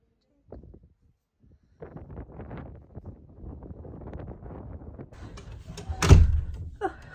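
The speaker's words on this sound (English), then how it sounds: "that door never fails to be an effort for me" A heavy exterior door on the P&O Iona cruise ship is pushed open against outdoor wind, with rustling and handling noise building to a loud thud and whoosh near the end.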